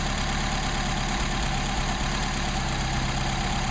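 A car engine fitted with a Solex carburetor idles in a steady, loud drone as the second-barrel butterfly is pushed and the revs drop, with no talking over it.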